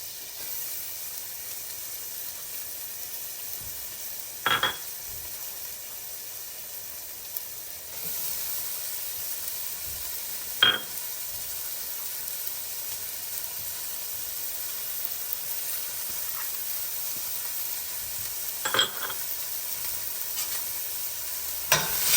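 Shallot, celery and leeks sizzling in melted garlic butter in a pan, a steady soft hiss throughout with occasional sharp clicks and stirring clatters, close and with no talking.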